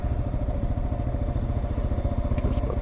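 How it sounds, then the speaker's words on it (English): A steady, throbbing motorcycle engine rumbles close by on a street in Mexico, loud and continuous with a rhythmic pulse and faint rattling. "A couple of motorbikes here."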